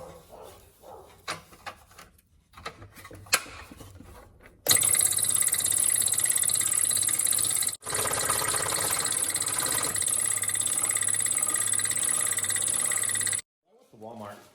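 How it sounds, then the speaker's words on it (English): Scroll saw cutting a wooden sign piece, a loud steady buzzing whine running about nine seconds with a brief pause midway, preceded by quieter workshop clatter and ending abruptly. "now I'm going to clean it up with the scroll saw here"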